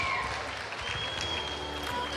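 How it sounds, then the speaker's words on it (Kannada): Steady, full applause from a large audience after a stage performance at a cultural programme of the World Bunts Conference 2023, dense clapping throughout with no talk over it. "ಬರ್ರಿ ಜೋರಾಗಿರುವಂತಹ ಚಪ್ಪಾಳೆ ಫಾರ್ ದ ವಂಡರ್ಫುಲ್ ಪರ್ಫಾರ್ಮೆನ್ಸ್"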